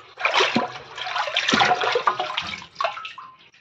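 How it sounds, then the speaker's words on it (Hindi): Fresh adulsa leaves being rinsed under a running tap, a steady rushing splash of water broken by brief pauses and shifts as the leaves are turned, close and fairly loud with no talk. "चलो इस पत्ते को धो के लेते हैं।"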